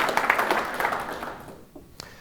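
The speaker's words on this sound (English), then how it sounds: "I just want to give them a round of applause, if you would, please." Audience applause for firefighters at a speaking event, a thick wash of clapping that thins and fades out within about a second and a half, leaving a lone late clap.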